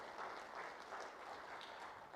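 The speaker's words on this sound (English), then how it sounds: "let's give Paul and Sarah Bowser a big round of applause" An audience at a city State of the City address applauds with a soft, continuous patter of many hands clapping, distant and even throughout.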